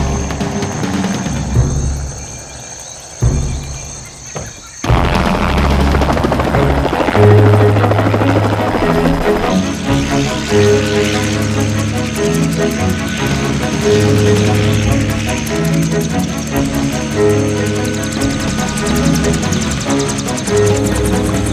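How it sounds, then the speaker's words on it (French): Helicopter flying overhead, its broadband rotor roar building after a quieter start and then holding loud and steady with low rhythmic thumping throughout. "Il y a un avion? Non, un hélico."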